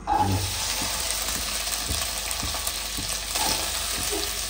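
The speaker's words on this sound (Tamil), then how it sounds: "ஆயில் சேர்த்து வெண்டைக்காய் வந்து நல்லா ஃபர்ஸ்ட் வதக்கணும்" Okra sizzles in hot oil in a pan, a steady close frying hiss broken by occasional soft scrapes and knocks of stirring.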